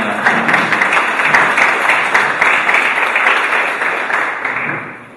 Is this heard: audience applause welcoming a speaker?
yes